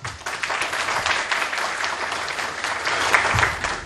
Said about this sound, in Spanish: Aplausos para ella, por favor.